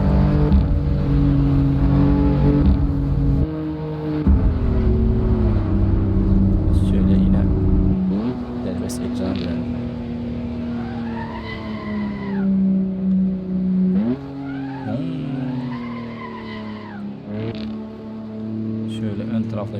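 BMW M4 engine in the Assetto Corsa racing game rising and shifting through revs, with someone talking over the steady synthetic engine drone.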